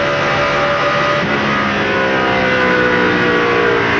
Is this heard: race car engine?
yes